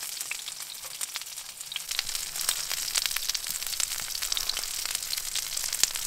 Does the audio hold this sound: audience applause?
no